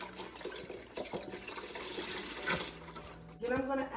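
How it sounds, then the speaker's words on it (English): Water is poured into a pot for boiling jumbo pasta shells, a soft splashing stream at low volume with faint background noise. "I think I need a little bit more water, so I'm going to add that"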